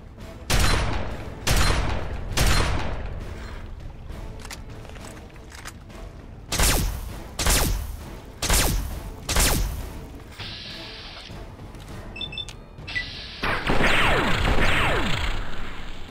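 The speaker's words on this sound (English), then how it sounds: "Shooting in the rocks." Gunfire in the video game Fallout 3, amid rocks: loud, spaced single shots in irregular clusters, with metallic mechanical clatter and a crash toward the end, no talk.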